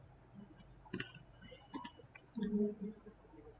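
A computer mouse clicks a button in a program, with a few faint, sharp clicks scattered among quiet talk in a hushed room.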